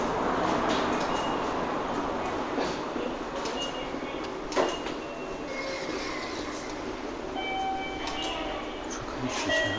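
Busy subway station concourse in Japan, a steady wash of rail and crowd noise with a train rumbling and carriages moving, a brief clunk near the middle, and faint high tones, with indistinct voices in the background.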